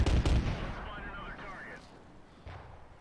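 Small 3 cm tank gun in a video game fires one loud close shot at the start, followed by a fading rumble and a fainter second report near the end.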